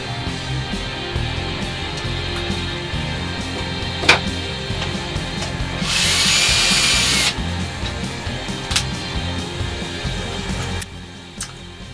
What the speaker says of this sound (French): j'ai percé mon coude à 90 degrés